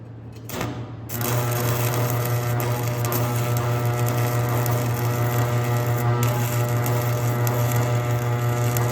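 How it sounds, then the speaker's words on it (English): An arc welder working at low amperage on 332 rod during maintenance of a Hesston 6450, giving a steady, loud electrical hum and buzz that starts after a second of quieter sound and runs on without a break. "Hear that welder doesn't like running at this low amperage"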